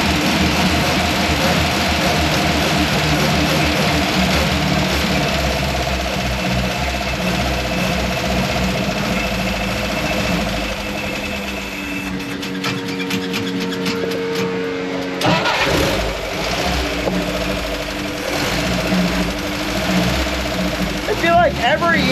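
A Jeep FC-150 engine, just woken from winter storage with a carburetor needing yearly adjustment, runs loud and close, idling roughly, then revving up and down under throttle while someone talks over it.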